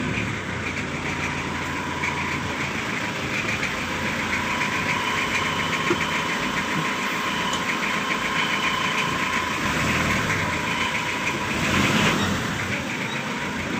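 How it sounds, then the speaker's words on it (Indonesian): A car engine idles with a steady, close drone and a faint knocking vibration while the car is reversed. "Ini kita pundurkan dulu untuk mobilnya ya."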